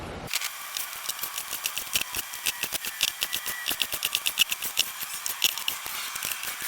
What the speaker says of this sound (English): Now it's time to take the piano hinge off of here. So unscrew a boatload of tiny screws.